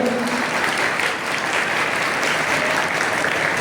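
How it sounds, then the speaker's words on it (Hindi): Loud, sustained applause from an audience welcoming Sanju Bhagat at a speech gathering, dense clapping filling the whole stretch with no voices on top. "इस संजू भगत के लिए हम लोग को जोरदार ताली बजा के स्वागत करें"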